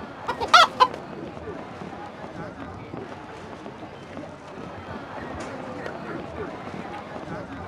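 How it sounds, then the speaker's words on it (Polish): A runaway chicken in The Road to El Dorado video game gives a sharp burst of loud clucks near the start, then fades under steady background ambience while voices talk. "To dziki, zbiegły kurczak."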